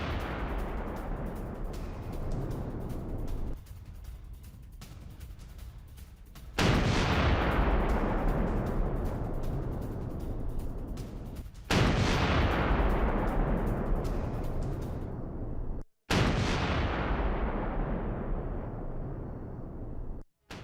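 Heavy gunfire and explosions from an attack on a Russian army rubber boat: repeated sharp blasts and loud bursts, each followed by a long, rolling roar, with brief drops between the impacts.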